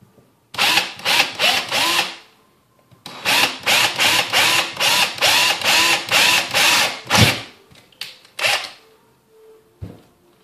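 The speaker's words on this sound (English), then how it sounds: "So just take a drill and drill out the hole." A power drill boring a hole in a motorcycle headlight reflector on a 2011–2014 Kawasaki ZX10R, close and loud, running in a short burst and then a long series of rhythmic pulsing bursts before stopping, with a couple of brief final blips.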